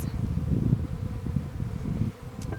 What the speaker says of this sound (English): We have 5 frames of what look to be very busy, happy bees